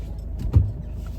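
A car slowly manoeuvring out of a parking space in a car park, its low engine rumble steady and close, with one brief louder surge midway as it shifts position.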